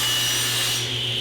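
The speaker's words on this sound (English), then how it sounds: "I can go ahead and make the shoulder cuts on the top and bottom of the stock" Table saw blade cutting shoulder cuts into wood stock for a tenon, a loud steady whining buzz with a constant motor hum underneath, close and continuous throughout with no voices.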